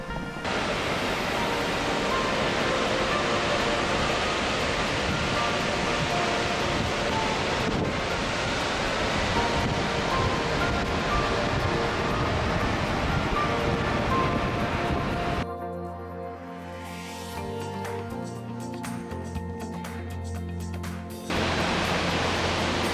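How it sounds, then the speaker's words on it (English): Salt Creek Falls, a 286-foot waterfall in Oregon, roars as a loud, steady broadband rush of falling water, continuous throughout, with a brief shift in tone partway through as if moving or sheltered. "Salt Creek Falls. It's the second highest waterfall in Oregon."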